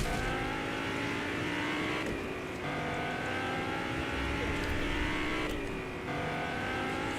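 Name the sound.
car driving in the video game Fortnite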